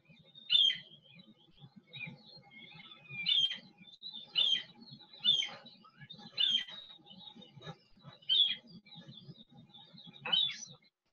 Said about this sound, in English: you can hear the sound of the bird at a distance